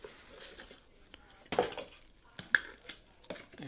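A Nespresso Essenza Mini lid is handled, giving a few soft plastic clicks and light knocks spaced apart over quiet room tone.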